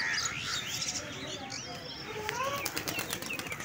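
Three pigeons released from a rooftop take off with a burst of flapping wings and scattered chirps, close at first and then fading as they fly off.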